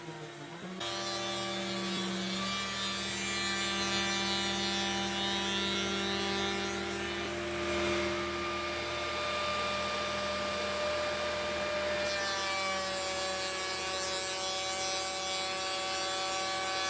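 A Onefinity CNC spindle cuts into a wood spoil board during leveling, giving a steady high-pitched whine with layered harmonic tones. It runs continuously, close and loud, for most of the stretch, with a slight shift in tone partway through. No one speaks.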